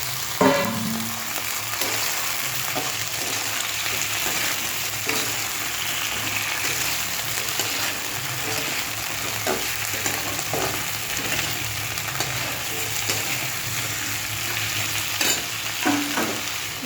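Onions and Malabar spinach stems stir-frying in a pan, with a constant close sizzle and occasional scrapes and knocks of the stirring spoon, and no talk.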